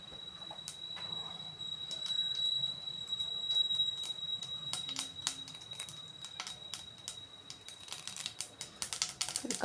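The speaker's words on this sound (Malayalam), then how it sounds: "എണ്ണ ചൂടായി അപ്പോഴത്തേക്ക് നമുക്കതിലേക്ക് കടുക് ഇടാം." Mustard seeds crackle and pop in hot oil for a garlic pickle, a scattering of sharp, irregular splutters that grow denser toward the end over a low hiss.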